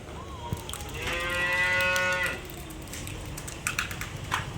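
A crossbred dairy cow moos once on a dairy farm, a long, loud, drawn-out call with clear tone that rises and then holds steady, set against steady farm background noise.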